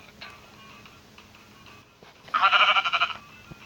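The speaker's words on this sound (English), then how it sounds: "It's a black sheep." A black sheep gives one loud, wavering bleat near the end, close and clear after a few seconds of quiet background with faint ticking.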